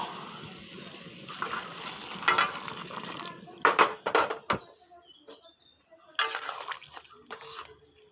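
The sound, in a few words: hot water added to fried vegetables in pan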